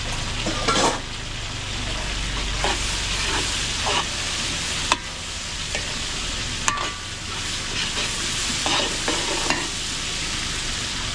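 Chicken liver and chicken breast sautéing with garlic and onion for catering, making a loud continuous frying sizzle broken by repeated sharp clanks and scrapes of a spatula stirring in the pan.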